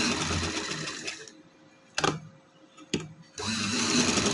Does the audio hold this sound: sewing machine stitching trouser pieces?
yes